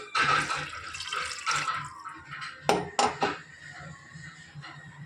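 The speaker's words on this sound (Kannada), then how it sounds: "ಈಗ ನೀರು ಹಾಕ್ಕೊಂಡಿದ್ದೀನಿ ಇನ್ನೂ ಸ್ವಲ್ಪ ನೀರು ಹಾಕ್ಕೊತಾ ಇದ್ದೀನಿ" Water poured into a cooking pot for mutton sambar gives splashing, dripping bursts, with a couple of sharp metallic clinks of the pot close by and quiet stretches between pours.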